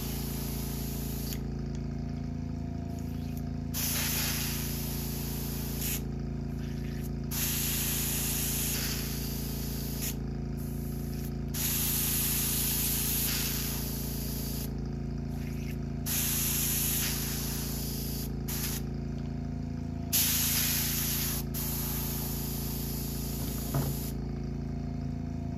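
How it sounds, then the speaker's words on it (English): An airbrush sprays in repeated bursts of hiss while being cleaned out after painting a custom crankbait lure, with a steady low hum from a compressor or pump running underneath throughout. "Clean the airbrush out real quick."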